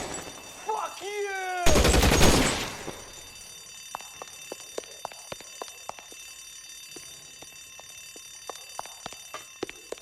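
Gunfire in an LA Noire shootout: a loud burst of shots early, then a long run of quieter, irregular distant cracks and pops, with a shouted voice before the burst.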